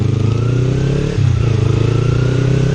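A Kawasaki Ninja 300 motorcycle engine runs loud and close, with a steady buzzing idle, a brief dip in the middle and then a slight rise in revs, and no voices.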